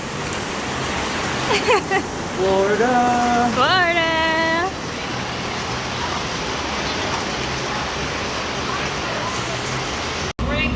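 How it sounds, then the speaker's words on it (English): Heavy rain pours down at Disney World, a steady broadband hiss that fills the clip from start to finish, with excited voices calling out over it early on. "And it started pouring down rain."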